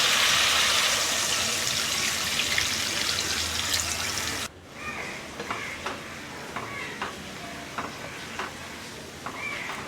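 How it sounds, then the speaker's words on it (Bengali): Water goes into a cooking pot of chana dal tobkar tok: a loud broadband sizzle and rush for about four seconds, then a quieter bubbling simmer with faint clinks. "এর মধ্যে দিয়ে দেব জল।"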